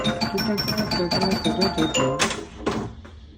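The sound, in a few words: pinball machine entrance chime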